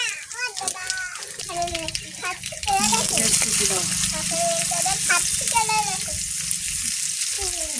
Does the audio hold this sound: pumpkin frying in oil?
yes